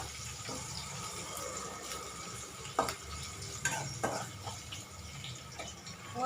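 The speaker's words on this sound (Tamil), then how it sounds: "எல்லாம் போட்டு கொஞ்சம் வதக்கணும்." Ingredients for semolina upma sauté in a pan, a soft continuous sizzle broken by a few sharper scrapes and clinks of stirring, close by and without talk.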